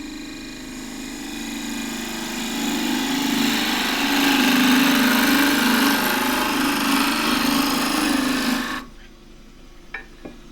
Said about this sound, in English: So now I aim to get a clean cut with a gouge round to here.